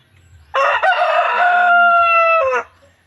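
A fighting rooster crows once, loud and close, a long strained call of about two seconds against a quiet background.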